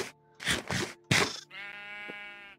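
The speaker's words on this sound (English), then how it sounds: "I'm gonna shoot my sheep before I get on with the video, and feed all my animals" A Minecraft sheep bleats once in a steady, drawn-out in-game bleat, heard clearly after a few short, loud scuffing and crunching game sounds.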